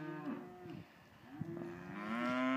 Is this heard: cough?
no